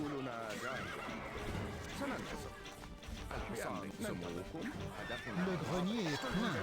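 Horses neigh and whinny repeatedly in a video game, with hoof clip-clops and occasional crashes, loud and continuous under excited talk.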